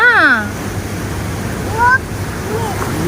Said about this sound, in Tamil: தண்ணி எல்லாம் தெரிக்குது பாருங்க